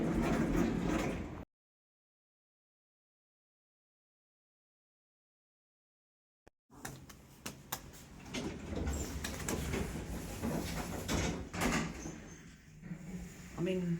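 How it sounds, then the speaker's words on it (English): A lift's doors slide open at Tate Modern in London: after a stretch of silence, a mechanical sliding rumble rises, with voices and ambient noise around it. "Doors opening."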